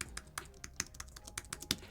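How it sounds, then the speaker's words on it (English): Keys tapped on a regular Apple Magic Keyboard (no keypad) while setting up a 2020 27-inch iMac, a quick irregular run of soft close clicks with nobody speaking. "we can just use the keyboard"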